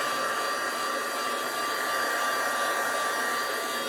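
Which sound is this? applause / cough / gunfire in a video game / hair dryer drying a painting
hair dryer drying a painting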